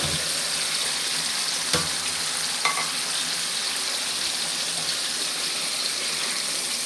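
Fish frying beside spices cooked down with shrimp for a Malabar spinach curry, a loud continuous hiss of oil with a couple of faint utensil clicks, close and steady.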